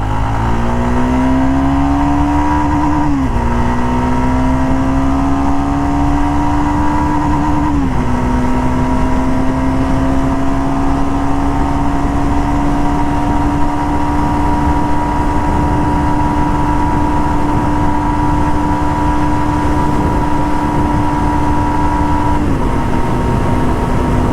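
A Jawa Perak motorcycle engine drones loudly and steadily, pitch rising with each gear as it accelerates hard, with brief dips at the shifts.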